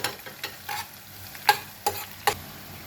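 Bitter gourd peels frying with cumin in hot oil, a quiet background sizzle broken by several sharp scraping stirs of a spoon in the pan, with no talking.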